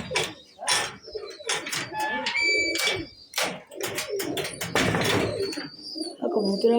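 Pigeons coo and flutter amid a busy chorus of bird calls and chirps, dense and continuous, as in a crowded loft.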